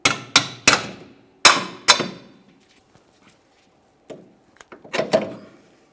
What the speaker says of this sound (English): We've got our hammer.